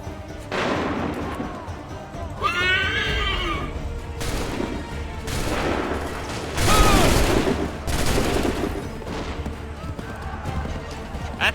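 Musket volley gunfire in the Assassin's Creed 3 battle of Lexington and Concord, several loud broadband bursts of massed shots spaced a second or two apart, with shouted commands and horse whinnies in the mix.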